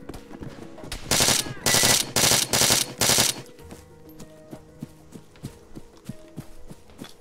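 Automatic gunfire in the Arma 3 military video game, several loud rapid bursts in the first few seconds, followed by scattered quieter distant shots.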